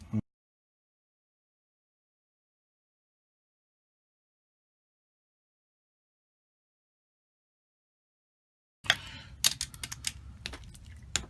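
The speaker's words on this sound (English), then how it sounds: "we got a torque wrench here. We got it set to 16 foot-pounds." A torque wrench set to 16 foot-pounds clicks as differential bolts are tightened during an R200 differential gasket replacement, sharp close clicks arriving in a brief cluster after a long silence.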